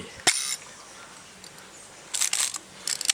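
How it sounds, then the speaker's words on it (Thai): Yashica Electro 35 film camera shutter firing indoors: one sharp click near the start, then a cluster of quick mechanical clicks and rattles near the end, close and dry against a quiet room. "ชัตเตอร์ทำงานนะ"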